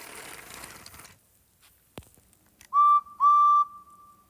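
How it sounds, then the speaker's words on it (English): A steam railway engine's whistle sounds twice, a loud clear tone in two close blasts with the second held longer. Quiet rustling and a single sharp knock come first. "Whistled Edward."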